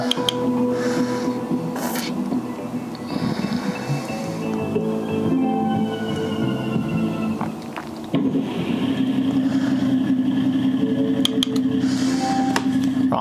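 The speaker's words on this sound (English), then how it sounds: "We've got the Supra on the drift track on the console" Toyota Supra drifting on a drift track in a console racing game, a continuous engine drone with shifting pitch that dips briefly, then resumes with a rising whine.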